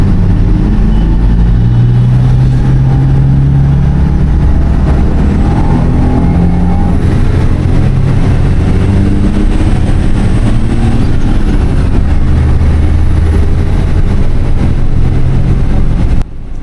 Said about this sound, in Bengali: এই বাসটার ফার্স্ট গিয়ারে একটা বিকট শব্দ হয়